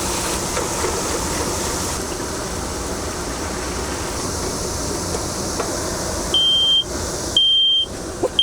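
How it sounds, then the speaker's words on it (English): A gas alarm sounds inside a camper van: two sharp, loud electronic beeps near the end follow a stretch of low rumbling background noise, with the second beep slightly longer than the first. "We got a gas alarm inside here."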